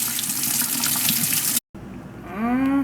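Tap water gushes steadily into a sink while raw chicken thighs are washed, a close, broadband splashing flow that cuts out abruptly, then resumes with a rising pitch as the stream fills a container.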